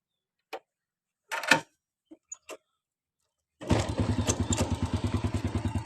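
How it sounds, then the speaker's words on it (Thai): A few clicks and thumps, then a vintage Honda Dream C100 motorcycle engine fires up close by and settles into a loud, steady, rhythmic putter. "เดี๋ยวลองฟังเสียงเครื่องดูนะฮะว่าเป็นอย่างไร"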